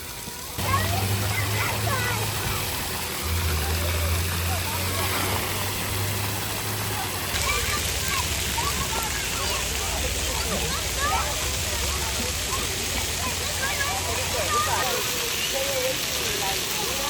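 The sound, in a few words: children splashing in water at a spray park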